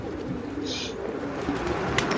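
Domestic pigeons, home-bred flyers kept in a loft with their young, give a short low coo, close but soft, over a faint background hum.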